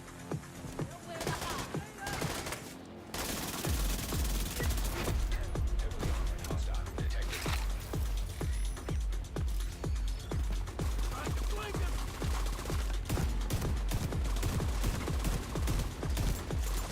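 Rapid, sustained bursts of gunfire from the Mop SMG in The Division 2, a loud, evenly paced rattle of shots that runs almost unbroken over a low, booming background.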